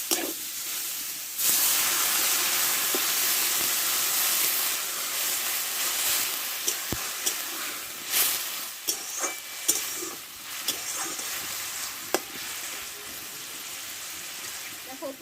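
Water splashed into a pan of sautéed moong dal and potatoes for a taro-leaf dish, giving a loud rush of hiss and steam that settles into bubbling with intermittent stirring clinks.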